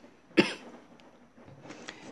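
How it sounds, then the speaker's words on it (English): A single sharp cough rings out close by, followed by quiet rustling and faint breathy sounds. "sorry, I had to pause to cough"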